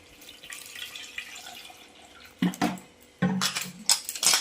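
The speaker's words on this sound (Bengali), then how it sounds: "প্রেসার কুকারে দুটো আম দিয়ে দিয়েছি এবারে দেব পরিমাণ মতো জল" Water poured into a pressure cooker holding two mangoes, splashing in short bursts that rise from quiet dripping to louder gushes near the end, close and alone without talk.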